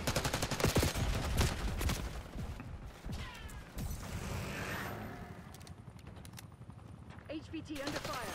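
Gunfire crackles around soldiers under fire, with bursts of shots and sharp cracks that are loud at first, then thin into scattered reports mixed with mechanical clatter and background noise.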